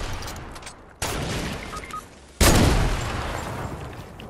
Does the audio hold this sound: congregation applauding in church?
no